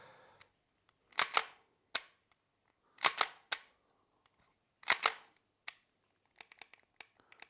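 An SSQ22 pistol set on safe gives sharp mechanical clicks and clacks, close and dry, in irregular pairs and singles, with fainter small ticks toward the end.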